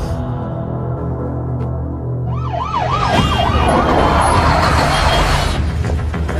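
An ambulance siren starts wailing over idling traffic noise, its rising and falling tone loud and close for several seconds.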